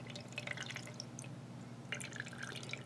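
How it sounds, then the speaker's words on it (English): Water flushed with a bulb syringe through the grip section of a fountain pen, rapid irregular drips and splashes in two bursts over a low steady hum, close and fairly quiet. "I have my bulb syringe, right? I'm going to stick it in right there, the grip part where the converter goes. And I'm going to squeeze it gently."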